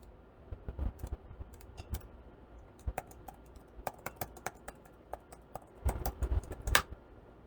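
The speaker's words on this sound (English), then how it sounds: "I'm just really bad at typing in passwords" Someone types a password on a Surface Pro 5 keyboard, with irregular quiet clicks in short bursts and a quick flurry near the end over a faint background hum.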